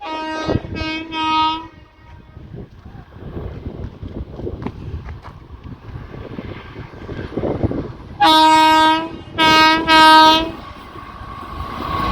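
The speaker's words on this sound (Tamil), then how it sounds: "ஸோ நாகூர் தஞ்சாவூர் வண்டி போகுது பாருங்கள்" A Nagore–Thanjavur passenger train passes close by, sounding a couple of short horn blasts, then a steady rumble of rolling wagons, then three long, loud horn blasts near the end.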